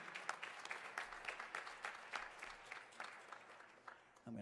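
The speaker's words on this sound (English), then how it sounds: "Please give them a round of applause once again." An audience applauds a college big band at the 47th Ohio State Jazz Festival, a steady, fairly distant patter of many hands clapping, with a voice briefly heard near the end.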